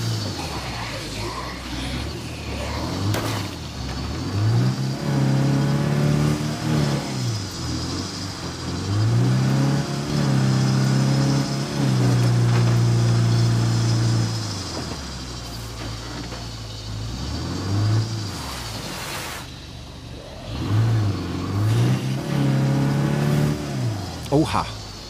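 Car engine in State of Decay 2 revs and whirs through a corn field, rising and falling in repeated surges across the stretch, with the engine droning steadily underneath and voices talking over it at times.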